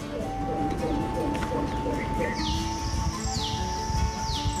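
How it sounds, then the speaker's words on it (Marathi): Birds call outdoors at the Pandavleni caves in Nashik, with soft pigeon-like cooing under brighter chirps and a few high, sweeping whistles, over a steady low hum. "आपल्याला कधी पक्ष्यांचा गुंजारव तर कधी मोरांची केकावली ऐकू येते"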